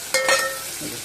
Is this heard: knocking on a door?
no